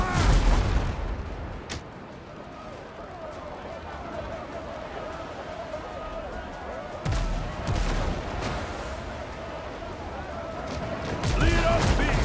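Cannons boom from a pirate ship in the game Windrose, a few loud blasts spread apart with rumbling tails, amid shouting voices and ongoing battle noise.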